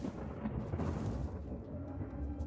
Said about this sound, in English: was that a rift or is that thunder?